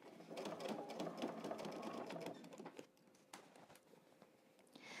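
A sewing machine stitches over existing seams on jeans being remade into a skirt, running at a steady close whir for over two seconds before slowing to a quieter, intermittent hum.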